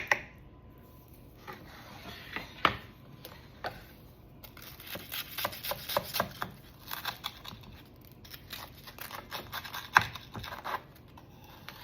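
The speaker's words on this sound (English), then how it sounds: "so cut it down the middle" A knife cuts down the middle of a sourdough chicken sandwich, giving close crunchy crackles of crust and paper-like crinkling in uneven bursts, moderately loud, with no talking.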